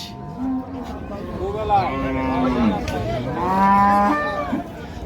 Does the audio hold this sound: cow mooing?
yes